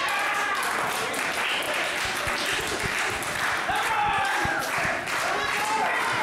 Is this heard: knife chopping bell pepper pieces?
no